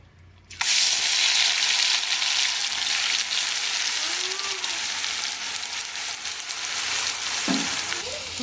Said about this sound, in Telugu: మసాలా వేసాక కొంచెం ఇది లైట్గా కలర్ చేంజ్ అయ్యేదాకా ఫ్రై చేసుకోవాలి.